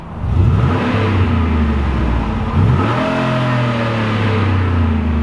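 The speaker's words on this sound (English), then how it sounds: "I'll rev it a little bit for you just so you can hear some of that V8 music." A 2013 Ford F-150 SVT Raptor's V8 engine revs up sharply twice, its pitch rising and falling before dropping back to a deep, steady rumble, loud and close.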